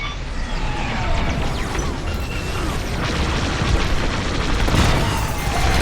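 A destroyed enemy fighter exploding in the Star Wars Squadrons space combat game, a loud dense rumbling blast with crackling debris, sustained and close, no speech over it.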